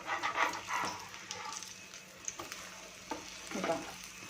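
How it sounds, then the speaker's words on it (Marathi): Aloo tikki potato patties frying in hot oil in a pan, with a steady close sizzle, occasional crackles and light scraping as they are turned. "आता आपल्या या ज्या टिकी आहेत त्या आपण दोन्ही साईडने छान यांना फ्राय करून घेणार आहोत"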